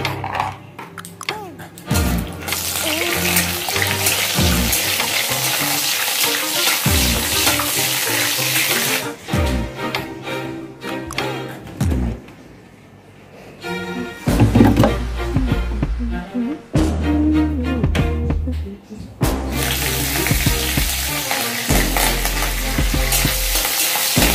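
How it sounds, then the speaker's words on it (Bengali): Peanuts fry in a little hot oil, sizzling and crackling in loud bursts broken by short pauses, with occasional stirring and no speech. "তেলটা গরম হয়ে গেছে। তারপর এর মধ্যে আমি দিচ্ছি বাদাম।"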